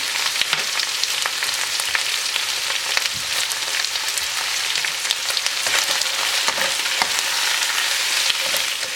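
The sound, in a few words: spring onion frying with chicken in a pan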